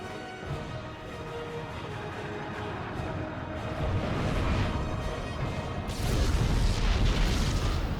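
A nuclear explosion in StarCraft 2 rumbles as a deep, rolling boom that swells in intensity and ends in a heavier surge.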